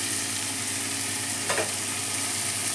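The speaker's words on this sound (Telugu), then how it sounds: "మంచిగా మెంతి ఆకు వేసేసి మిక్స్ చేద్దాం, కలుపుదాం" Fenugreek leaves stirred into a frying curry in a pan, giving a continuous close sizzle with one short scraping stir midway and no talk.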